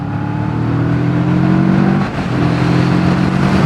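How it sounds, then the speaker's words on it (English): A new motorcycle still being run in, either a Moto Morini Seiemmezzo or a CFMoto CL-X Adventure, pulls up to dual carriageway speed. A loud, steady engine drone dips briefly at a gear change, then climbs again with wind rush. "Let's take it up to speed, let it sit at dual carriageway speeds briefly because it's running in"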